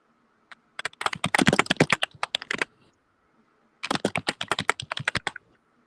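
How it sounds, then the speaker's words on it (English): Close, crisp typing on a computer keyboard comes in two rapid bursts of keystrokes with a short quiet pause between them, and no voices are heard. "what are you typing?"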